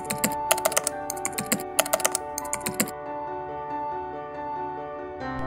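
Rapid keystrokes on a computer keyboard as a web address is typed, two quick bursts of clicking close to the microphone, then quiet with a faint hum.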